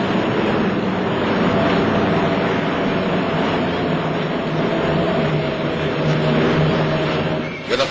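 Four-engine roar of the Douglas XB-19 bomber, an 82-ton prototype, at full power during takeoff: a steady, loud, dense drone with low engine hum held throughout, fading slightly at the end.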